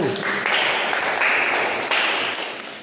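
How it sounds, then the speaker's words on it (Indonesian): Students in a classroom clap for a group that has just presented, a brisk burst of many hands close by that holds steady and then fades toward the end. "Kita berikan tepuk tangan untuk kelompok 1."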